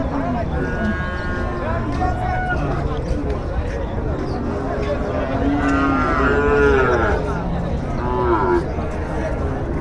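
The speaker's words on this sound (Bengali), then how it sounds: "কুরবানির সময় আসলে খুব সুন্দর সুন্দর গরু এখানে দেখতে পাচ্ছেন" Cattle low repeatedly at a crowded Bogura livestock market during the Qurbani season, several drawn-out moos rising over a dense, noisy crowd with people talking throughout.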